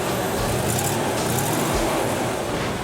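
A street rod's engine runs at a low steady rumble under broad outdoor noise, fairly faint and without clear revs.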